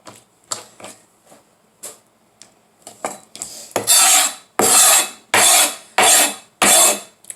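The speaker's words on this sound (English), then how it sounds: "I'm cutting up veggies." Vegetables are chopped with a knife on a cutting board: a few soft, spaced taps first, then loud, sharp, evenly paced chops about every half second, close up with no talk.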